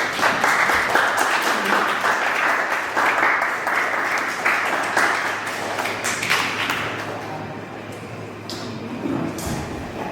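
An audience claps and applauds to welcome performers at a Pan-African performance, a dense, loud ovation that goes on steadily and slowly tapers toward the end.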